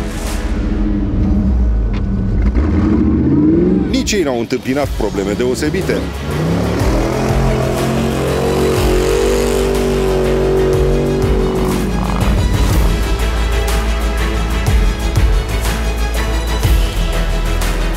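An off-road trophy car from Racing Team Sighișoara grinds through a swamp at a rally, its engine straining and rising through revs, loud and continuous, while a commentator speaks over it.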